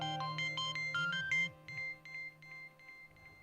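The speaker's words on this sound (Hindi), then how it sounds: "किसका फोन है?" A phone ringtone plays a bright electronic melody of repeated beeping notes, close and clear, with no voices.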